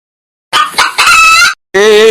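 A chicken being chased clucks and squawks loudly and close by in a series of agitated bursts, ending in a longer strained cry.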